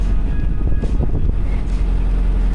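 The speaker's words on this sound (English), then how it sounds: "Engine seems to be going along nicely" Narrowboat engine running while cruising on the River Trent, a steady loud low throb with wind buffeting the microphone, no voices.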